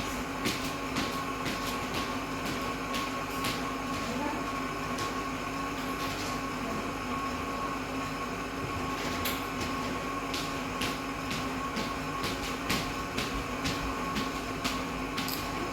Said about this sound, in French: je laisse le robot tourner